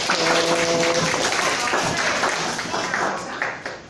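A classroom group of English learners claps hands in a short burst of applause, loud at first and then fading, over a brief stretch of speech near the start.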